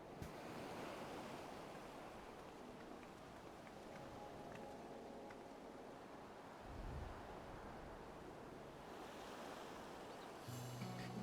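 Ocean waves wash steadily against a shore in the video game Final Fantasy XIV Dawntrail, a continuous soft surf ambience with gentle wind and no talking.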